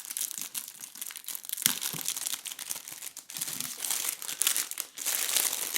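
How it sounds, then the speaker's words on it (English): A clear plastic wrapper is cut free of its sticky tape and slid off a Yumbox Tapas lunch box, giving close, busy crinkling and crackling in irregular bursts with brief pauses and no speech. "Let's go ahead and remove the plastic wrapper by very carefully cutting apart"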